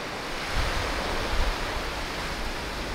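Incoming tide waves wash and lap around ankles on a beach in a steady broadband roar of surf, close and fairly loud, swelling gently twice with no talking.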